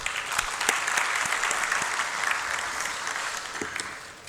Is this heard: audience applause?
yes